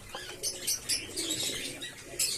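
Pigeons at a feeding spot, including a chocolate-coloured male, coo softly and flap their wings in repeated bursts, with chirpy rustling throughout and no talk.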